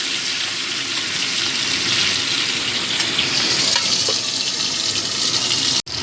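Amudi fish shallow-frying lightly in a pan gives a steady, loud, continuous sizzle with no break until a brief cut near the end.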